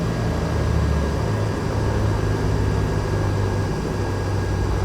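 Twin engines of a Duchess 76 light aircraft in X-Plane 11 drone steadily and loudly, a constant low hum with no talk as the throttles are brought back down.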